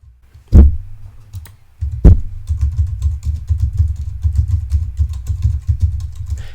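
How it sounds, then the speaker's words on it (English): Typing on a computer keyboard picked up through a Blue Yeti microphone with a metal housing: two heavy thumps, then a steady, fast clatter of rattling keys, close and fairly loud. "every rattle of the key is picked up by this metal housing of the Blue Yeti"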